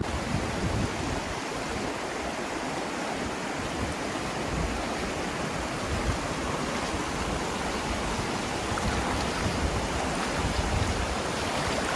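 Steady, full-bodied rush of a river flowing by a riverside camp near a village, a constant close broadband roar with no pauses and no voices.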